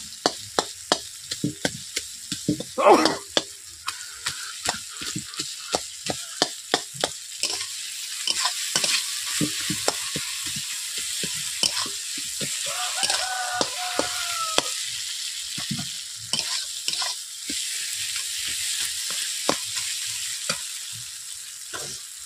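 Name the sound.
frying and breaking up rohu fish heads in a wok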